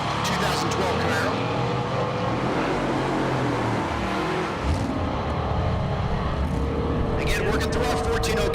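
A 2012 Chevrolet Camaro races down a dragstrip in Great Bend, Kansas, its engine a loud, steady roar throughout, with a brief dip midway, while an announcer talks over it.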